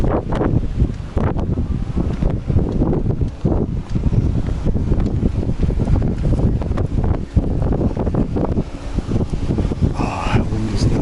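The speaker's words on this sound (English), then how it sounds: "that wind is nice. Right now we have the typical Yerevan evening breeze." Evening breeze in Yerevan, Armenia, buffets the microphone outdoors with a continuous, gusty low rumble that stays loud throughout with little letup.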